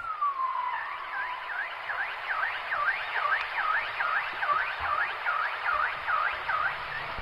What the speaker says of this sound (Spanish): Suena como la alarma de un coche, pero es una ballena boreal.